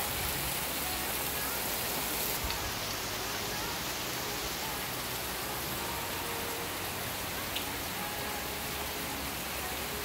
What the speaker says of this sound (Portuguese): Chuva abençoada.